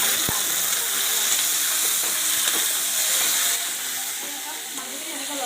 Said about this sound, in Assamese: এতিয়া মই খানি থোৱা মাংসখিনি দি দিম